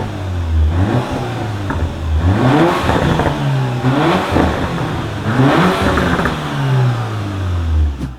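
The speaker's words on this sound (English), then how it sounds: "this is what a base Macan sounds like" A base Porsche Macan SUV with a 2-liter turbocharged engine revs repeatedly, its note rising and falling in several loud, close surges before settling into a lower drone.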